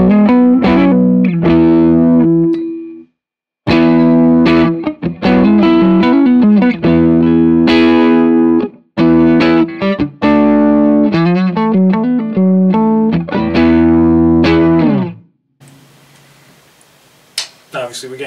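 Distorted electric guitar on the neck humbucker playing chords and riffs, thick and saturated, with a short pause early on and a trailing buzzy noise after it stops.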